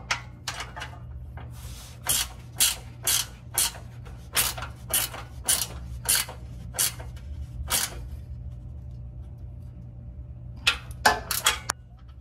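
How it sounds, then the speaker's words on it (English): A ratchet tightens crossmember bolts on a third-generation Toyota Tacoma pickup, sounding as repeated short bursts of clicking, about a dozen close strokes in a steady rhythm with a pause before a final few, over a low background hum. "we can go ahead and tighten the cross member bolts as well"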